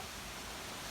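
A waterfall and fountain in a town park give off a steady, broadband rush of falling water, close and unbroken for a brief moment with no voices.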